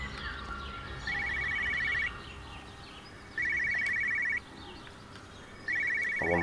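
A telephone rings inside a car in the game Everybody's Gone to the Rapture: three loud, evenly spaced bursts of rapid electronic trilling, each about a second long and separated by short gaps, with faint bird chirps behind them.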